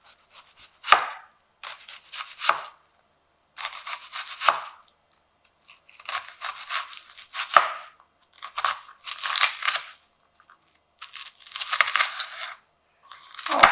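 A knife chops onions on a cutting board in bursts of crisp, crunchy strokes separated by short pauses, each burst ending in a firm tap of blade on board, close and fairly loud with no talking.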